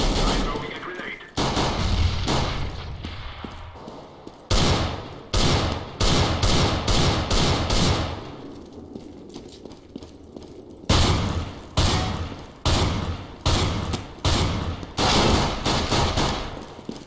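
Counter-Strike gunfire in bursts of sharp rapid shots, several close volleys separated by short gaps, mixed with players talking over the action.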